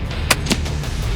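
An FX Crown GRS air rifle fires outdoors in gusting wind, giving two short sharp cracks close together over a steady rumble of wind buffeting.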